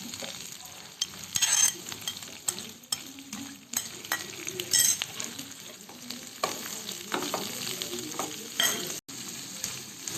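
Onion, capsicum and green chili stir-frying in a pan with garlic, a steady close sizzle broken by repeated scraping and stirring strokes and occasional light clinks of a utensil, with no talking.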